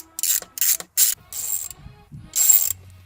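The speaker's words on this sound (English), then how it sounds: "7mm bolt here, so grab a socket," Socket ratchet backing a 7mm bolt out of a 2022-2025 Silverado/Sierra 1500 truck panel: four close, buzzy clicking bursts of the pawl separated by short pauses, with faint handling noise between strokes.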